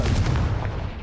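Confringo explosive spell fired in Hogwarts Legacy, one short loud blast with a dense low rumble that decays quickly over about a second.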